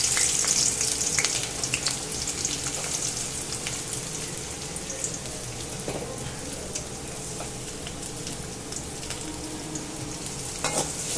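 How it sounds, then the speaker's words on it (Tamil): Steady sizzling and crackling of shallots sautéing in hot oil, with occasional stirring scrapes, continuous and close throughout. "பொன்னிறத்துக்கு வர்ற அளவுக்கு நல்லா நம்ம சின்ன வெங்காயத்தை வதக்கி விட்டுக்கோங்க."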